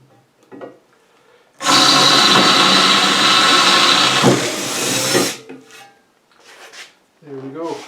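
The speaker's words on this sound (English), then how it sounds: "So we switched to the bigger drill bit" A bigger bit drills into wood for a firewood carrier, producing a loud, steady grinding rasp for several seconds that cuts off abruptly, with brief talking before and after.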